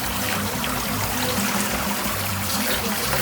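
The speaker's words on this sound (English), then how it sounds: "I just take the hose from the water filter" Water from a hose running over an iced-up Hoshizaki ice machine evaporator to melt the ice, a steady splashing trickle and gurgle, close and continuous, with no voices.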